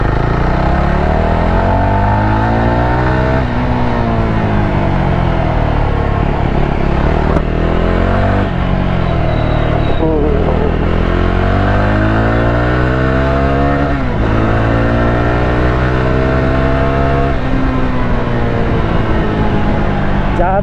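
Jawa 42 Bobber motorcycle accelerating hard on an empty open road, its engine note climbing repeatedly through the gears in loud rising sweeps with brief drops at each shift, under constant wind rush.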